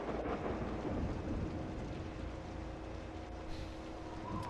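A thunderstorm in the video game SpongeBob SquarePants: Revenge of the Flying Dutchman, a steady deep rumbling roar with rain-like hiss that holds throughout, loud and enveloping.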